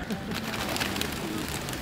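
Pigeons coo and flutter in a busy old-town square in Prague, close and lively amid crowd noise, with people talking over them.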